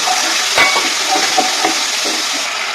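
A spiced mixture with a little water is stirred in a hot pan, producing a loud, steady sizzling hiss with a few faint scrapes of the utensil mixed in.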